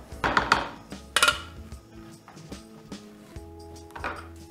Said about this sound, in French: On va la débarrasser dans un plat.